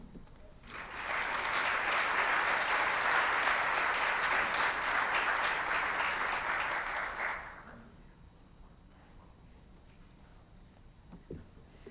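An audience at a summit keynote applauds a speaker as he is welcomed, giving about seven seconds of steady, full clapping that fades into quiet room tone.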